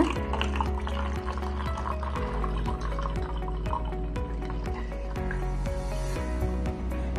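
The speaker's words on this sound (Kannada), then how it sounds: "ಮತ್ತೆ ಹಾಗೆ ಇನ್ನಷ್ಟು ನೀರನ್ನು ತುಂಬಿಸ್ತಾ ಹೋದಾಗ" Water pouring steadily into a tank fitted with a water-level alarm, a continuous trickling and splashing close by with faint dripping details and no talk.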